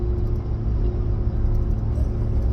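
Steady low rumble of a car driving on the road heard from inside the cabin, a continuous engine and tyre drone at even loudness throughout with no talk.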